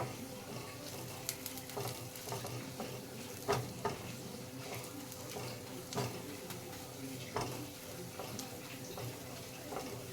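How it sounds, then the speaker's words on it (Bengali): A spoon stirs rajma, a kidney bean curry, in a pan, with soft sizzling and irregular scraping clinks of the spoon against the pan, close and moderately quiet, with no talk over it. "ভালো করে নাড়িয়ে নেব।"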